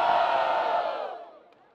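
Crowd noise at a Brazilian freestyle rap battle, Batalha do Coliseu: a loud burst of cheering and shouting from a packed audience that swells at once and then gradually fades over under two seconds.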